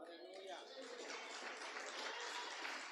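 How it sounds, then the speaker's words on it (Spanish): A church congregation applauds together, a dense, fairly soft wash of clapping sustained throughout with voices mixed in. "Un aplauso al Señor."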